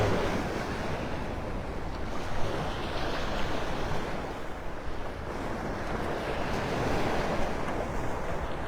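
Beach surf and wind at Pelican Bay in North Naples, Florida, near the Sandbar Beach Club. Waves wash in a continuous, moderately loud roar, with wind buffeting the microphone and no one speaking.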